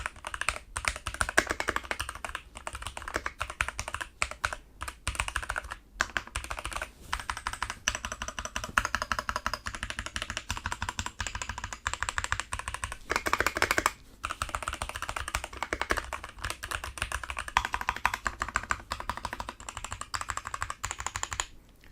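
Typing on a Keychron V4 UK ISO budget 60% mechanical DIY custom keyboard with lubricated switches and gasket layers: a dense, steady stream of close keystroke clicks and clacks for about twenty seconds, with only brief pauses and no voices.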